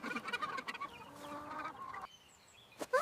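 Chickens clucking on a farm in a short burst of overlapping clucks and calls, fairly close, that breaks off into a quieter pause before a brief final cluck.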